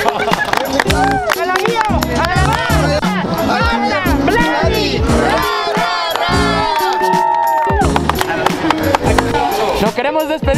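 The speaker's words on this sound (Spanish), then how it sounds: "Un aplauso otra vez," A lively crowd of fans on an outing to Xochimilco cheers and shouts together, many voices rising and falling in excited whoops over a constant loud din, with possible clapping mixed in.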